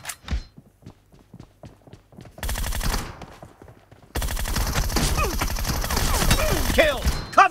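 Bursts of automatic gunfire from PUBG Mobile, an iPhone XR battle-royale shooter match, start sparse and clipped, then become dense, loud sustained fusillades with rapid shots layered over each other.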